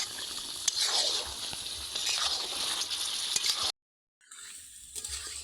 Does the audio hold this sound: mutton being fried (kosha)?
yes